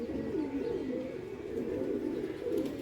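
Pigeons coo on a rooftop, a steady low burbling that repeats throughout, close and moderately loud, with no one talking.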